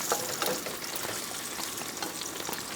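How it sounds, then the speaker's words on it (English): Cut potatoes fry in a pan at a truck campsite, giving off a steady, close crackling sizzle with soft stirring scrapes and no talking. "Get them taters frying."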